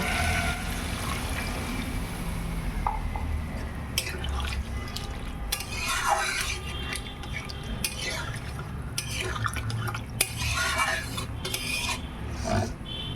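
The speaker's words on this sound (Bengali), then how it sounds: "তারপরে এখন ঝোলটা দিয়ে দেব।" Broth is poured into a pot of tengra fish curry, a continuous liquid splash and stir with scattered utensil clinks and drips, close and moderately quiet throughout.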